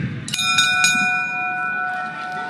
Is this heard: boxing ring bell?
yes